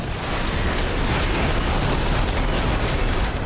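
Within a World of Warcraft delve, a Fungal Storm explosion erupts as a loud, dense, continuous roaring blast that holds steady for several seconds, with crackling bursts throughout.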